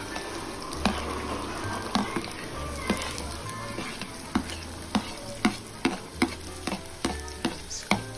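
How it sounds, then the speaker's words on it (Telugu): Chopped onions with green chillies fry in a pan over fairly high flame for poha. A steady sizzle runs throughout, with regular, sharp spatula scrapes and taps on the pan, close up, and no talk. "ఆనియన్స్ మంచిగా ఫ్రై కావాలి"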